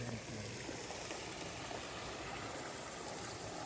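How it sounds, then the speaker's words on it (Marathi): Water flowing downhill through a farm field makes a faint, steady rushing wash that runs unbroken throughout. "इकडे आता पाणी झालं पाणी सर्व आता खाली जाणार"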